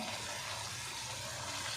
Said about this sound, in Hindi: अब इसमें मैं थोड़ा सा पानी ऐड कर दूंगी, ½ कप जितना।